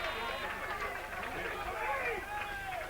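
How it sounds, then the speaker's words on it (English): A crowd at a local Australian rules football match rising into cheering and excited chatter, a steady broad roar of many voices. "the crowd's come to life"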